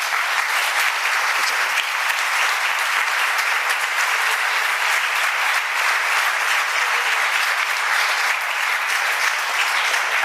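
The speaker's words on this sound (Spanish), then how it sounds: "pero vamos a darle un aplauso." An audience at a talk gives dense, steady applause that holds at an even, fairly loud level for about ten seconds without a break.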